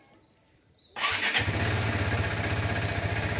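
A motorcycle is cold-started in cool weather before a coastal ride: a brief crank, then the engine catches and settles into a loud, steady idle close by, with faint birdsong before the start.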